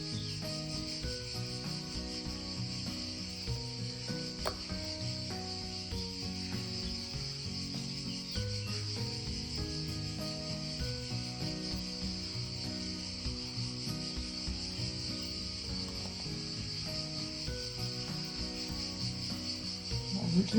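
Cicadas drone steadily through an open window, a dense continuous buzzing chorus that runs unbroken throughout, with no talk over it.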